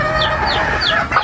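Hens on a backyard poultry farm cluck and squawk close by in a short, busy burst of overlapping calls.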